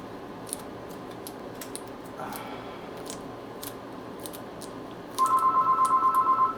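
A telephone in an artist's sculpting studio begins ringing near the end with a rapid warbling electronic trill, clear and fairly loud over faint background noise and scattered small clicks.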